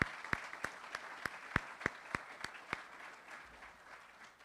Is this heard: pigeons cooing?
no